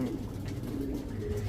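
Pigeons cooing at a racing loft, low soft throaty coos repeating steadily close by over a dense background murmur.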